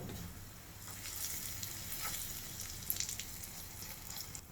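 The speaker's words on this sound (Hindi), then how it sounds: "लहसुन को एकदम डार्क ब्राउन करना है हमको, इतना ज़्यादा भी नहीं कि काला हो जाए।" Garlic tempering sizzles steadily in hot oil with red chili and coriander powder, a close, continuous frying hiss with faint stirring clinks, for a Sindhi tridali dal.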